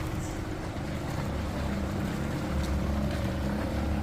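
Small boat motor droning steadily on open water near Drake Bay and Sierpe, Costa Rica, a continuous low rumble with wind and water wash over it, close and constant, no speech.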